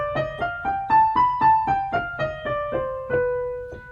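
A pitched instrument plays a scale starting on B, about a dozen evenly spaced notes rising and then falling back, each with a clear attack and short decay, heard alone and close.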